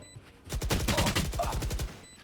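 Rapid gunfire sprays through a wall in a collegiate Valorant esports match, a quick burst of about a dozen closely spaced shots lasting under two seconds, moderately loud.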